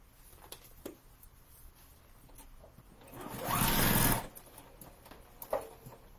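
A sewing machine stitches quilt block pieces, a quiet run of ticking followed by a louder whirring burst of about a second, then scattered soft clicks, with no talk.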